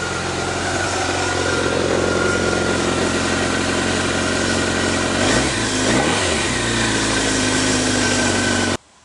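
A BMW K1200RS motorcycle engine, tuned to 130 hp, idles steadily, with a brief blip of revving midway before settling back, then it stops abruptly.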